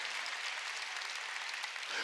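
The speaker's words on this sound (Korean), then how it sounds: "박수치라" A congregation claps together during a church sermon, with steady, dense applause that fills the room at an even level for the whole stretch.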